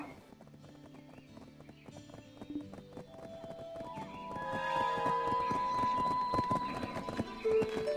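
Horse hooves clip-clop in the video game Black Desert, with neighing and whinnies. The rhythmic hoofbeats are steady and close, and they grow louder midway among the game's layered music and effects.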